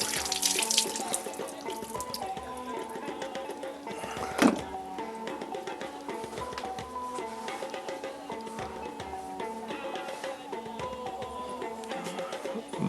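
Hot water runs steadily from a tap in a self-made wooden house in the forest, a faint, constant splashing hiss with a single louder knock midway.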